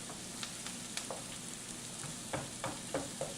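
Onions cooking down in butter in a pan beside a bacon hamburger. A soft, steady sizzle runs throughout, broken by a string of scraping stirs that grow sharper toward the end.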